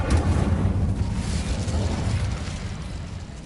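A loud, roaring whoosh of the Incendio fire spell in Hogwarts Legacy, a broad fiery burst that holds steady and then slowly fades.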